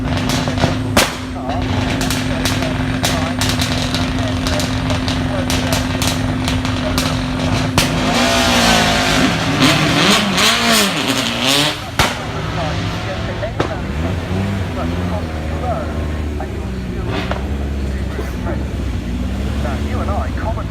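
The historic ex-Christoph Holovich race car drives at Goodwood, its engine roaring loud and close, holding a steady drone before revving and sweeping past with shifting pitch.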